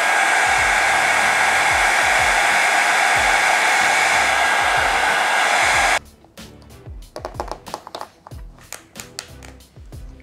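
A hair dryer blows loud and steady as a continuous broadband roar for about six seconds, then cuts off abruptly, leaving quieter tapping and handling noises.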